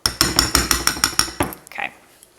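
Silicone mini muffin molds holding pumpkin pie fat bombs are knocked against a surface in a quick run of about nine sharp, close taps, then a couple of softer knocks and a faint clatter.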